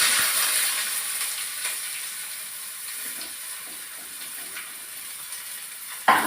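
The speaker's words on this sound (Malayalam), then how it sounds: "ഫസ്റ്റ് തന്നെ ഞാൻ ഉള്ളി ഇടുന്നുണ്ട്" Onions sizzling in a hot pan at the start of a beef curry, a steady bright hiss of frying that fades slightly, ending with a sharp clatter.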